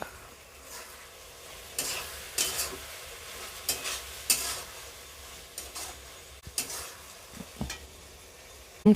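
Ridge gourd and potato pieces stirred in a pan with turmeric, cumin and chili powder, giving repeated scraping strokes of a spoon over a soft, steady sizzle, close by and moderately loud.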